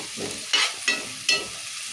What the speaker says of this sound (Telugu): మిరపకాయలు ఉల్లిగడ వేసాం కదా ఇవి నూనెలో వేయించుకుందాం మంచిగా